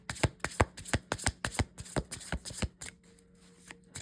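A deck of Soul Light oracle cards is shuffled in quick, crisp riffling bursts, about a dozen sharp flicks in a steady rhythm close to the microphone before the sound thins out near the end.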